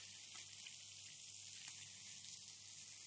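Fish fillets fry in olive oil in a pan, giving a faint, steady sizzle with soft crackles throughout and no voices.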